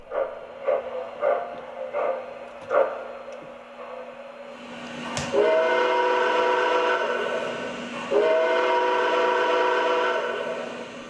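Steam locomotive 765 chuffs a few times, then its whistle blows two long, loud blasts, the second following a short pause.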